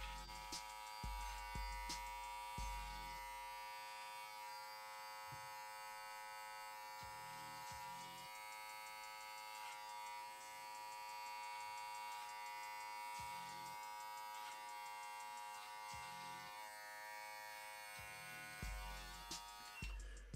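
An Andis Slimline Pro trimmer cuts beard hair with zero gap blade, giving a steady close electric buzz that runs throughout with brief low bumps as it moves across the face.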